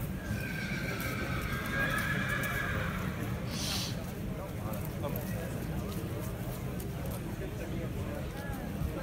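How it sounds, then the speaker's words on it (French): At a French horse auction, a horse gives a loud, drawn-out whinny of a few seconds, with hooves clip-clopping nearby. An auctioneer talks steadily over the whole scene. "Cheval très élégant, cheval de talent"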